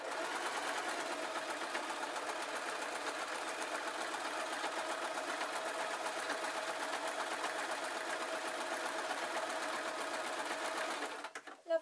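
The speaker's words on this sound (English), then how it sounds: "So now I'm going to continue sewing, and I'm going to sew past the original seam." A sewing machine runs a plain running stitch through a fake lamb's fur cushion, with a steady, close, continuous whirr that stops abruptly at the end.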